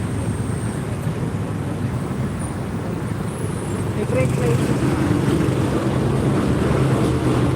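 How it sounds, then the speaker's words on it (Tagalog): Steady road traffic with a continuous low engine rumble from passing vehicles that thickens slightly partway through, with no clear voices over it. "Traffic."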